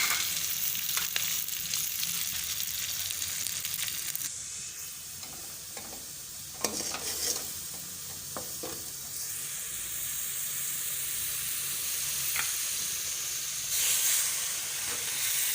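Salt, red chili, turmeric and green chilies fry in a pan with vegetables for mixed vegetable paratha, giving a steady hissing sizzle broken by scraping and stirring knocks, with no voices.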